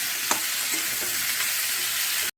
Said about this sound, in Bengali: টমেটোটা ভালো করে ভেজে নেব।